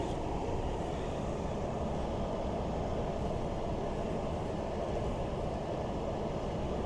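A 2017 Ford F-150 Lariat with a turbo engine cruising at the speed limit on Route 93, heard from inside as a steady, even low road and engine rumble with no talking.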